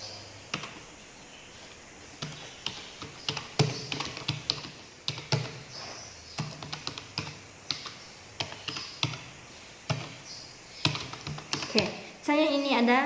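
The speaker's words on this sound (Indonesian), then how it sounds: "kamu mengetik teks kamu di sini" Typing on a computer keyboard, a quiet, irregular run of close key taps and clicks in bursts and pauses, with a short voice near the end.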